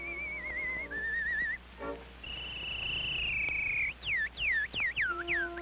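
A whistling artist performs on an early Edison recording, giving a warbling whistled melody with long sustained notes, vibrato, upward slides and a run of quick chirping phrases, alone without talk.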